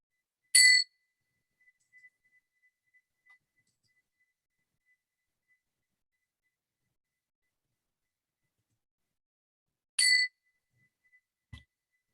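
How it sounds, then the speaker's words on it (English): Two clear, bright bell strikes ring out about nine seconds apart, each fading quickly into near silence, with a faint soft tap at the end. "So listening to the bells."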